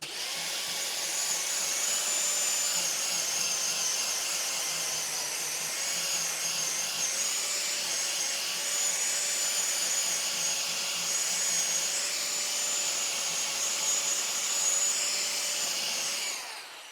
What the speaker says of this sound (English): you can use one of these grinders with whatever grit, 60, 80, 40, whatever you have